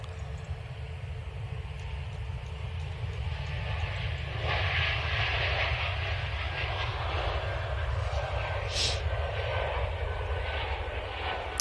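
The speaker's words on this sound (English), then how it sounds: "Here goes the Air France. Well, this is an Airbus A220." Air France Airbus A220 arriving at Manchester Airport, a distant engine roar swelling gradually to a louder steady rush, over constant low background rumble.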